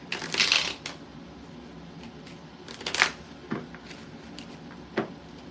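Tarot cards are shuffled by hand in a few short riffling bursts with soft taps and clicks between them, close and fairly quiet.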